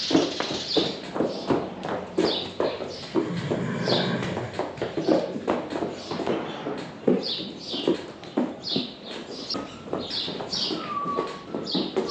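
Horses walk out of a barn at a stable, their hooves clip-clopping in a steady, fairly quiet patter on a hard floor while birds chirp in the background.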